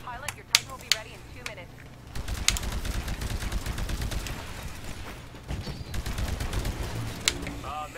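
Rapid bursts of smart pistol fire in the video game Titanfall crackle through a busy mix of game sounds, with sharp cracks standing out early and again near the end.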